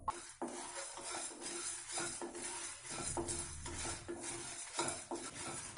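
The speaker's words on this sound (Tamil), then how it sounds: "கடலைப்பருப்பு நல்லா சிவக்கிற வரைக்கும் வறுக்கலாம்." Coriander seeds, chana dal and dried red chillies are stirred in a dry pan for a South Indian kuzhambu, giving repeated scraping and rattling strokes against the pan with a faint sizzle and no voices.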